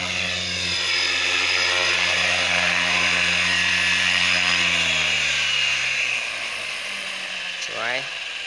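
Trex 550L radio-controlled model helicopter flying at an open field, a loud steady rotor and motor whine that shifts pitch downward as it passes, with brief talk in the background.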